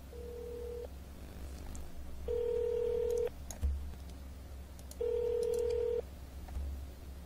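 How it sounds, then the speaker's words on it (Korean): Telephone ringback tone on a call being placed, three evenly spaced electronic beeps about a second long each, clear and steady over a low hum, no talking. "전화 통화 한번 해보겠습니다"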